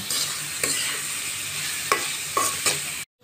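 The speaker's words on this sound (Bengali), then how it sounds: "দিয়ে দেবো এখন রসুন কুচি আর মরিচ ফলা সব কিছু এখন ভালোভাবে লাল করে ভেজে নেব" Chopped garlic and sliced chilies fry in a hot pan for a village-style dried Bombay duck (loitta shutki) bhuna. A steady loud sizzle runs throughout, broken by several scraping stirs, then cuts off abruptly.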